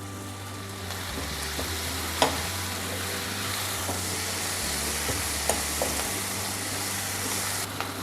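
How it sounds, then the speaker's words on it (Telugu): Chopped gongura sorrel leaves fry in a pan with a continuous close sizzle, punctuated by occasional clicks and scrapes of a spoon, over a low background hum. "గోంగూర వేగుతున్నప్పుడు"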